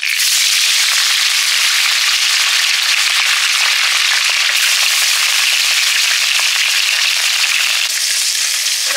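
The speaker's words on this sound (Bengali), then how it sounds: "মাছে নুন হলুদ মাখিয়ে দিলাম, মাছগুলো ভেজে নিচ্ছি" Fish rubbed with salt and turmeric frying in hot oil, giving a steady, dense, loud sizzle and crackle that carries on without a break, close up and with no voices.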